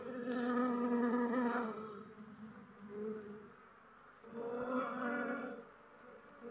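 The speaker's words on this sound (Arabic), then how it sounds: "شوف هذيك النحلة الصفراء راه جاية" Bees buzzing around beehives while stronger colonies raid weak hives: a steady close insect drone that swells and fades in waves, with individual bees passing near, and no talk.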